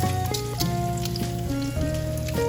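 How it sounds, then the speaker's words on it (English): Bacon frying in a pan while breakfast is made with farmhouse biscuits, giving off a steady, even sizzle that runs under continuous background music. "Waiting for that bacon to fry."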